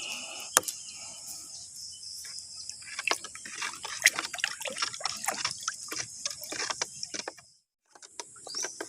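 Two tablespoons of melon fertilizer are stirred into water until dissolved: faint, steady sloshing with quick clinks and ticks of the stirrer, briefly going quiet near the end.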